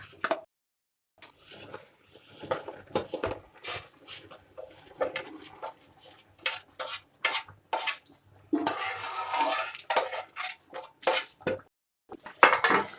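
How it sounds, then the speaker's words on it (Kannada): Roasted cracked wheat is stirred into boiling water in a pot: a series of close, loud metallic scrapes and clinks of a spoon against the pot, with bubbling and sloshing water between the strokes. "ಈಗ ಗೋಧಿ ನುಚ್ಚು ಹುರಿದಿರೋದನ್ನ ಇದಕ್ಕೆ ಮಿಕ್ಸ್ ಮಾಡ್ಕೊಳ್ಳೋಣ"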